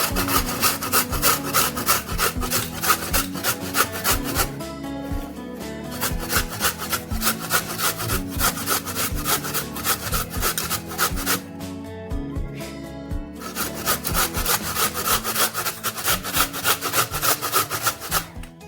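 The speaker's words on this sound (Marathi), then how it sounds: "आता आपण हे बीट खिसून घेऊया." Peeled beetroot rubbed against a hand grater, a steady rhythmic rasping scrape, loud and close, with two short pauses before the strokes resume.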